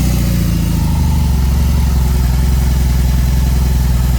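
A 2022 BMW R 18 Transcontinental motorcycle engine idles with a loud, steady low rumble right up close, a deep continuous throb with no speech over it.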